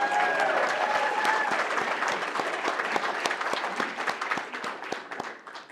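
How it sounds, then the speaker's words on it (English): A business chamber audience applauds at a city address, steady crowd clapping with many crisp individual claps that gradually thin out and fade toward the end. "we have to give a round of applause as he is a new father to his beautiful baby girl"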